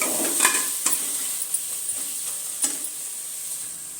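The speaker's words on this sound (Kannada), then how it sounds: "ಇದು ಚೆನ್ನಾಗಿ ಮೆತ್ತಗಾಗೋ ತನಕ ಹುರ್ಕೊಳ್ಳೋಣ." Finely chopped tomatoes frying in a pan for egg biryani, a steady close sizzle with a few spoon stirs and scrapes at intervals, gradually settling to a softer hiss.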